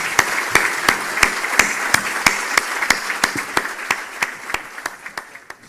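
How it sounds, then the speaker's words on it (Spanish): Audience at a political talk series applauding for an arriving speaker, a steady run of sharp, regularly spaced claps at moderate distance, fading slightly toward the end, with no talk over it. "vamos a testimoniar su presencia con un fuerte aplauso"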